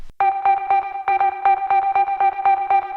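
A buzzy, distorted electronic tone from a dial-up modem sample stutters in quick repeating pulses, with a delay effect smearing each burst. Loud and steady, with no voices.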